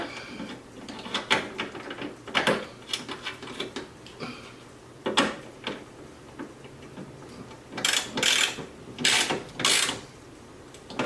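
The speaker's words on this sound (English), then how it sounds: "Last thing is to tighten the bolts underneath here." A ratchet tightening bolts beneath the window regulator inside the door of an NB Miata, giving quick runs of close metallic clicking in several bursts, the last ones louder and sharper.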